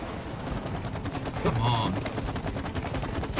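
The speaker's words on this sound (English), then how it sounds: "You can shoot it again" Gunfire from It Takes Two, a brief burst of shots against a boss wasp, heard under steady background game noise while players talk.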